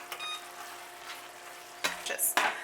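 Parmesan cheese being stirred into a pan gives soft, quiet scraping and swishing, with a few sharper clinks of the utensil against the pan near the end.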